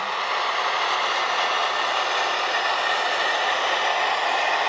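A continuous, even mechanical rumble from an H0-scale model train locomotive starting slowly on a layout, holding a steady level throughout with no voices.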